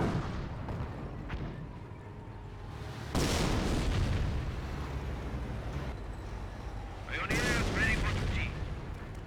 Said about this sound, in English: Good Grenadier mortar hits on the Grenadiers.